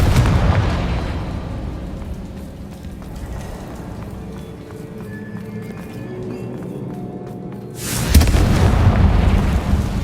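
Confringo blasting spell in Hogwarts Legacy, cast in an old disused room off a staircase: a sharp, loud burst of explosion near the end, following a quieter stretch of low rumbling and ambient game sound.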